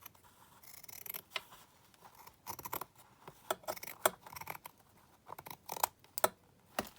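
Scissors snip through paper and lace while trimming pieces for a junk journal, a series of sharp, close cuts coming in quick irregular bursts with brief pauses between them, no talking.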